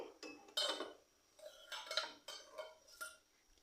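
Metal pot lid lifted off a pot of steamed caramel pudding, with several light clanks and scrapes of metal against metal in quick irregular bursts, close and fairly quiet.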